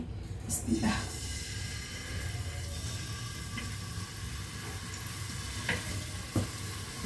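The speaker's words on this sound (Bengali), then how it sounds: "লবণ হলুদ মরিচ দিয়ে মাছটা আমি এখন ভেজে নেব" Stinging catfish rubbed with salt, turmeric and chilli frying in oil, a continuous close sizzle with a few louder spatters and utensil clinks, no talk over it.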